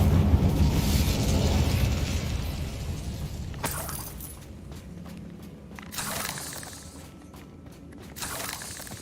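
A fire spell cast in the video game Hogwarts Legacy, heard as a loud roaring burst of flame followed by crackling blasts and bursts that recur at intervals.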